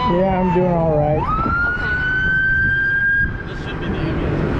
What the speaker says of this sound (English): This should be the ambulance.